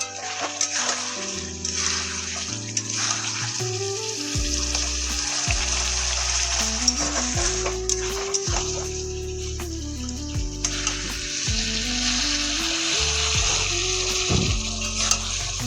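Chicken gravy sizzles in oil in a pan as it is sautéed down, a constant close frying hiss with scattered pops and stirring, background music running throughout.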